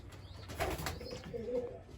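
Pigeons in a loft give a couple of soft, low coos close by, with faint rustling around them.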